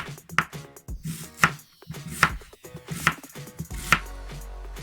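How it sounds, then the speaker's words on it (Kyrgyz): Onions being chopped with a knife for Kyrgyz plov, a series of close, sharp knife strikes on a cutting board in irregular bursts, alone with no talking. "Биринчи биз пиязыбызды турап алабыз."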